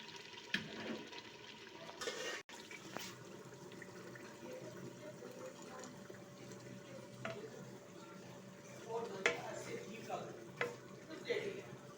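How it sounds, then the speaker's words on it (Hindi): Water being poured into a pot of chana dal cooking with meat, a steady bubbling, sloshing wash rising under kitchen noise for several seconds, with a few brief clinks and stirring sounds. "और इसी में मैं 3 गिलास पानी के डाल के तो बीच में डाल दूंगी।"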